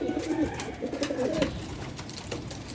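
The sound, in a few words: pigeons cooing in a loft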